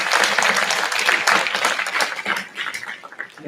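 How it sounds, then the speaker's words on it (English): Applause from a concert audience for school band and orchestra musicians at a May concert, dense clapping at full strength that gradually thins and tapers off over a few seconds. "Let's give a round of applause to our"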